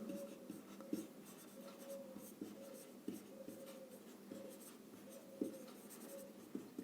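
A pen scratches across paper while a maths proof is written out, soft repeated strokes in a steady rhythm, faint and close, with no voices.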